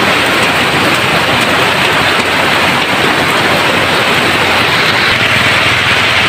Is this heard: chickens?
no